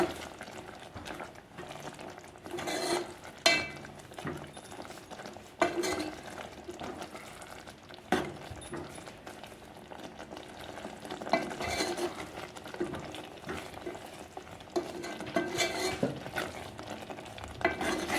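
Sev tomato curry sizzles and bubbles in a pan while it is stirred, a low, continuous frying hiss with soft scraping and occasional clinks, fairly quiet and steady throughout.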